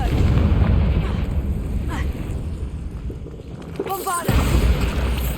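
A Confringo fire spell in Hogwarts Legacy lands as a deep, rumbling fiery blast with a sustained low roar, followed by a second burst after a brief swell of magical shimmer.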